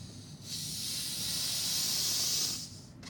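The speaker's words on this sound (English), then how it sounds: "I'm going to bubble that oxygen up under the flask." Oxygen from a balloon bubbles up through water into an upside-down flask, heard as a steady, close hiss that swells and holds for about two seconds before cutting off, with a brief burst after.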